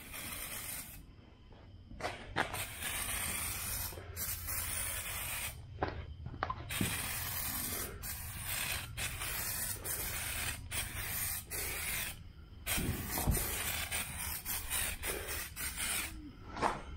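An aerosol can of Bulldog adhesion promoter sprays onto the door panels of a 1977 Malibu Classic in a run of short hissing bursts with brief pauses between them. The bursts sound close and fairly quiet.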